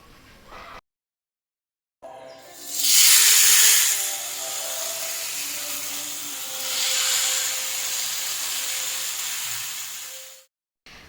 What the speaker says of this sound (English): once the pan and the oil is well heated, I'll be adding the fish onto it